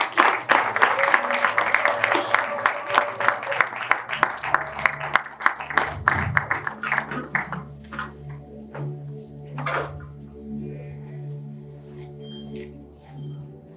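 Audience at a Congolese novel launch for author Ngindu Kabitanga Pierre claps in a crisp, fairly loud burst that thins to scattered claps and fades into quiet room noise with a few knocks.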